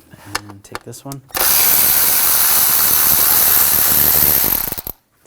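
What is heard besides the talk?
ratchet with 10mm socket removing a bolt on BMW X5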